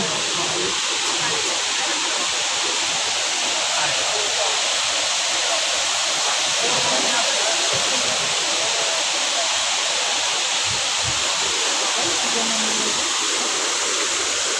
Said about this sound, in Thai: ทางนี้สิเป็นน้ำตกทางนี้